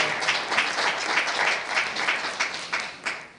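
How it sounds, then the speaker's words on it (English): An audience at a poetry event for Palestine gives a round of hand clapping, a steady wash of many claps with a few sharper accents near the end. "Hand clap."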